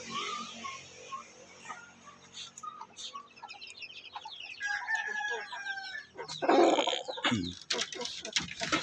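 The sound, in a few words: native chickens clucking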